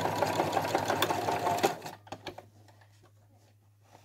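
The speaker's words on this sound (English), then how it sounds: "just work your way around the lines until you've quilted" A sewing machine quilts stitches along marked lines on a fabric scissor case, running loud and close with a rapid mechanical patter before stopping abruptly, followed by a few small clicks over a low hum.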